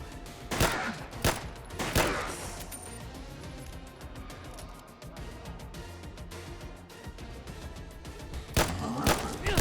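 Gunshots in Fallout: London, a few sharp, loud single reports spaced apart over a background of crackling, rumbling battle noise, with more shots bunching near the end.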